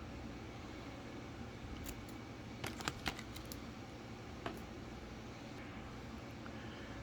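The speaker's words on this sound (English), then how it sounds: "you can simply snip this off with a pair of scissors" Scissors snip through plastic packaging while a Bissell ProHeat 2X Revolution Pet carpet cleaner is unboxed: a short cluster of crisp clicks and cuts, close but quiet, over a steady low room hum with no talking.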